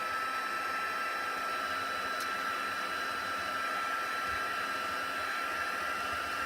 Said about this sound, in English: I'm just going to give it a quick blast with the heat gun, just for a second, just so that some of this ink can dry